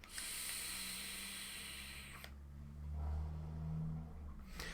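An Innokin Kroma-Z vape set to 35 watts gives a long, loud airy hiss of drawing and firing for about two seconds, then a softer, breathy exhale that swells and fades, close up with no talking.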